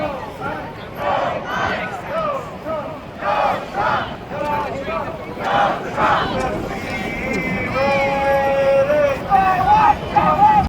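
A street protest crowd in Atlanta cheers and chants in rhythmic bursts over a constant babble, with someone talking near the microphone.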